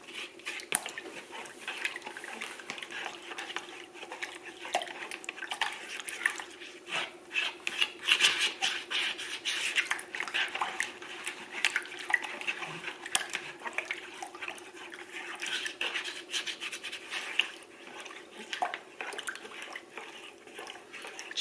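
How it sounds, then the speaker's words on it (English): A spoon stirs yeast dissolving in water for sticky buns, giving a long run of soft, irregular scraping and clinking against a bowl with light liquid swishing, close and fairly quiet. "I'm gonna mix this up. I want to get the yeast to dissolve"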